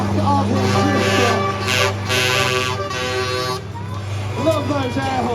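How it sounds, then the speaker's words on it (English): Air horns on a drift truck at a live arena motorsport show sound steady, loud blasts with rich sustained tones, joined by crowd and background noise, with a brief flurry toward the end. "Love those air horns."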